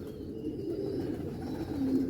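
A pigeon in poor, dirty condition coos softly and steadily over a low, continuous murmur, with a slightly louder coo near the end; no voices.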